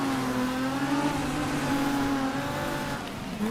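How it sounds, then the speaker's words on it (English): A rally car engine in the video game DiRT 2 holds at redline in fourth gear, a loud, steady, buzzing high-rev drone with a slight pitch wobble throughout. "Redlining it in 4th gear."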